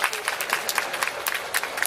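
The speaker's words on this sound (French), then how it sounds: "On l'applaudit encore." Applause from the audience at a manga convention talk during Japan Expo, with scattered claps rising and falling at moderate volume under some background talk.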